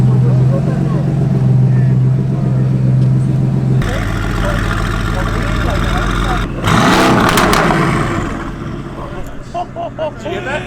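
A Honda NSX at the TX2K car event, its engine roaring loud and close with a steady drone that surges into a harsh burst of revving before easing off, while people talk and shout nearby.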